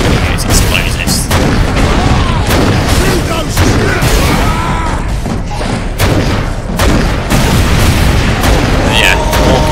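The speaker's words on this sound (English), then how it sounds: "I'm apparently going to just spam grenades as well. And then I'm going to use explosives." Loud, dense run of explosions and booming blasts from grenades and explosives in a Warhammer 40k Space Marine game, continuous heavy thuds and bursts filling the whole stretch with barely a pause.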